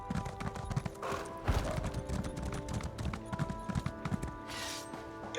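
Horse hooves clip-clop in a steady rhythm at close range in the video game Elder Scrolls Online, mixed with a faint tonal hum in the background.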